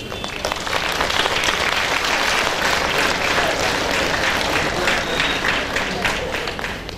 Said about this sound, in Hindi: याद रखना कहीं भी आरती हो खूब जोर से ताली बजाना चाहिए